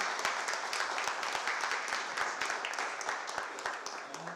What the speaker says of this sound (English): So give applause for our presenters.